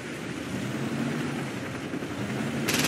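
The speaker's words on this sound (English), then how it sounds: "There's another helicopter!" Helicopter in the Saints Row 2 video game, a steady broadband rotor-and-engine roar holding at a constant level throughout, with a brighter burst of noise entering near the end.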